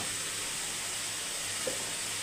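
Tomato thokku sautés in a pan, a steady, even hiss of frying that stays constant and moderately quiet throughout, with no talking.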